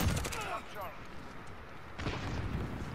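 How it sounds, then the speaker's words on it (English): Gunfire in Call of Duty: Modern Warfare with a GRAU 5.56 rifle, a rapid volley of shots and a heavier burst of fire near the end, mixed with a player's voice over the game sound. "Who shot me from behind?"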